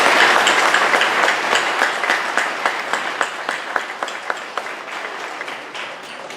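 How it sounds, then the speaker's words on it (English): A crowd applauds steadily at a university student awards convocation, dense clapping that holds for several seconds and then thins slightly toward the end. "I still want to give them a big round of applause"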